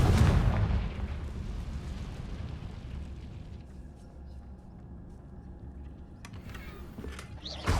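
The Confringo fire spell from Hogwarts Legacy bursts in a loud, close blast that rolls into a long rumbling decay, followed by a few lighter crackles and pops.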